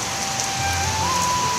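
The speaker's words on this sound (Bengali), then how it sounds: "এদিকে খুব জোরে বৃষ্টি এসে গেছে" Heavy rain pours down during an evening storm, a dense, steady roar of drops hitting surfaces that stays loud and unbroken throughout, with no voices.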